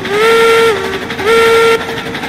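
Steam locomotive whistle in the train game Railroads Online, sounding two sustained, wavering blasts with a brief gap between them, loud and close over a steady rumble of the moving train.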